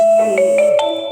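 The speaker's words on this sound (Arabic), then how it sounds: "التليفون رن وانا بسجل." A mobile phone ringtone plays loud and close, a bright melodic sequence of tones ringing over about a second with no talking.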